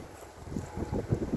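Outdoors, gusty wind buffets the microphone in low, rumbling bursts that swell and fade over a second or so, loud and close with no other sounds.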